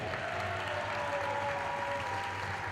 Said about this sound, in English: please, everybody, give it up again once more for J-Bots